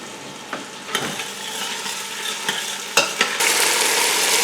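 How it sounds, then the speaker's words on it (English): Onions and peppers sauté in oil with a continuous sizzle broken by scraping stirs and clatters of a utensil against the pan, growing louder and hissier near the end, no voices. "we put the onions and the peppers in the oil and saute them."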